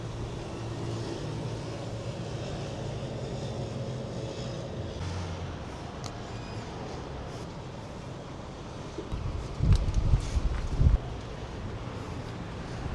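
Wind gusting near the Vieux-Port in Marseille on a stormy day, a steady broadband rush with low rumbling buffets against the microphone, swelling into louder bursts near the end, with no talking.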